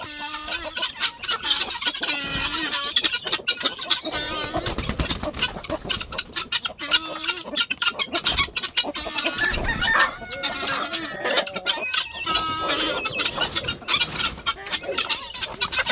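A rooster clucking and crowing close by, with a busy run of repeated clucks and calls from several fowl overlapping throughout.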